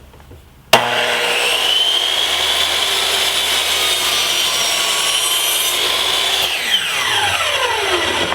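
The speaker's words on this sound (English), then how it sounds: "I've measured and marked my piece of plywood, and now I'm going to cut it with the chop saw." A chop saw spins up sharply and cuts through a sheet of plywood in one sustained, loud, close whining grind, then the blade winds down with a falling whir; no one speaks.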